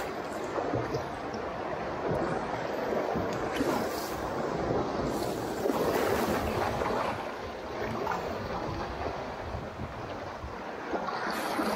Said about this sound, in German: da schwappt wieder ordentlich Wasser ins Boot